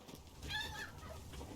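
Chickens in the video game Resident Evil Village give a short, faint run of clucks over quiet game ambience.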